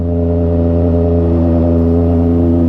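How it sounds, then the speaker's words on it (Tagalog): A Honda Rebel 500 motorcycle labors up a steep road climb, its engine droning loudly and steadily under strain, recorded close with no talk. "Kailangan kontrol lang yung motor dito."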